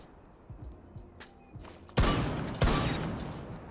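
Light mechanical clicks and handling noises lead into two heavy shotgun blasts in Rainbow Six Siege, fired a little over half a second apart, each booming loudly before trailing off.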